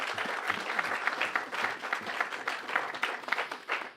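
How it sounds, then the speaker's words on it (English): A round of applause from an audience at a governor's economic development announcement in Little Rock, dense steady clapping sustained for several seconds. "Let's give them a big round of applause for that."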